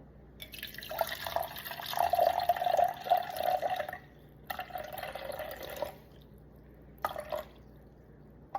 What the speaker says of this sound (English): We're gonna get our 150 grams of lukewarm water.